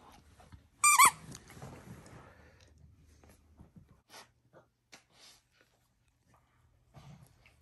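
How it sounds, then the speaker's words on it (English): A squeaky dog toy squeaks in a quick burst of sharp, high-pitched squeals near the start, given to a pit bull, followed by quieter rustling and soft dog snorts and gasps. "It squeaks."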